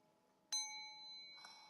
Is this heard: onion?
no